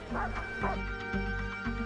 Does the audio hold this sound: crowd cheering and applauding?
no